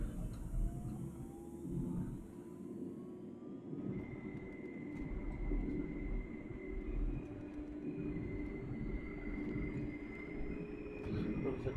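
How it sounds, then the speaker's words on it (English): Train being driven in the OMSI 2 simulator game, a steady low rumble of wheels and motor with a rising whine and a sustained tonal hum joining after a few seconds, moderately quiet. "So we're driving the train"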